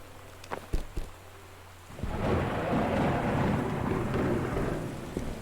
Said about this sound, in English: There's thunder as well now.